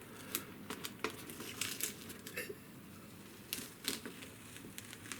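Tape is peeled slowly off primed cartridge paper, giving soft crinkling rips and brief crackly bursts with quiet pauses between them, close by.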